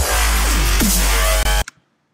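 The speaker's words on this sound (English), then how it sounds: "I'm going to show you how to make a growl in Massive." A growl bass synth patch made in NI Massive plays as a loud, gritty, harmonic-rich snarl with sweeping, wobbling pitch. It cuts off abruptly after about a second and a half, leaving a brief faint tail.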